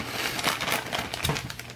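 A plastic bag holding parts for a '55 Nomad model car crinkles and rustles as it is pulled open, close and continuous with sharp crackling bursts.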